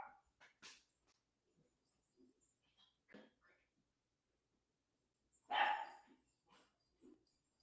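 A dog barks in short, scattered bursts in a quiet home kitchen, with a louder, fuller cluster of barks near the end and faint whimpering yips between them.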